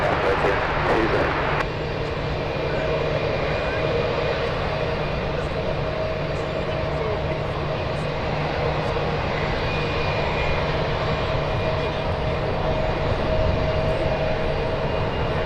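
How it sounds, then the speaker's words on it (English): A Delta Boeing 737 jet landing on runway 28 left at San Francisco International Airport gives a steady, loud roar that holds throughout, with broadband noise and faint tonal whine. "Delta 737 landing on 28 left."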